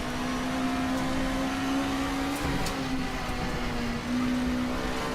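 Damaged race car engine in the RaceRoom racing game, a steady droning hum with a strained, slightly wavering tone that dips briefly near the end, heard alone without talk.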